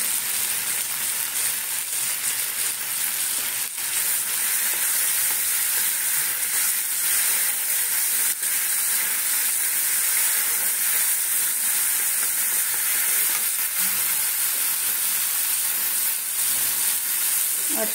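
Masala spices sizzle and fry steadily in a pan while being stirred, making a continuous, even hiss with occasional scraping, close and moderately loud, with no talking.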